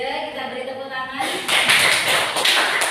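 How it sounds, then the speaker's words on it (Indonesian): A class applauds a group's presentation, with the clapping starting partway through after a stretch of voices and carrying on as a dense, near patter of many hands to the end. "Kita beri tepuk tangan."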